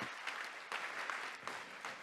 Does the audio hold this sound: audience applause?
yes